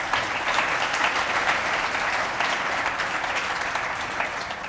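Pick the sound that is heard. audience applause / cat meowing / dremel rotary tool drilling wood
audience applause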